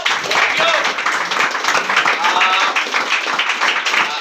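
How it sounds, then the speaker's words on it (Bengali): A small group at a live celebration claps in a dense, continuous patter. Voices mix in underneath the applause. "হাততালি দাও"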